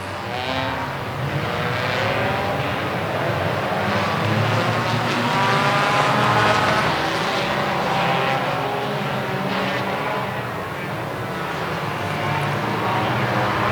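Race cars restart on track at the Daytomah 200, a loud continuous roar of engines revving and droning close by, holding steady throughout with no talk.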